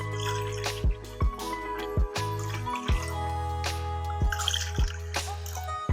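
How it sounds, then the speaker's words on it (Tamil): Water is poured into rice flour for idiyappam dough, heard as repeated close dripping and splashing bursts at an uneven rhythm over a sustained tonal background. "இப்போ 2 கப்புன்றதால நான் 3 கப்பு தண்ணி ஊற்றுறேன்."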